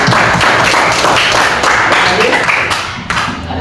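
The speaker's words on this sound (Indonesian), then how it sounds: "tepuk tangan dulu." A classroom full of students clapping during a lesson on the human reproductive system: dense, steady, close applause that holds for several seconds, then thins slightly toward the end, with some voices mixed in.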